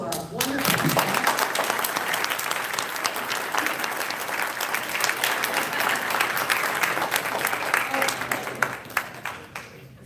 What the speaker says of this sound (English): I want to please give a round of applause to our wonderful staff.